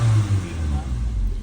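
A car engine revs briefly as the accelerator is pressed during a test of its oxygen and air-fuel sensors, a low rumbling surge that starts strong and then steadies, with someone talking over it.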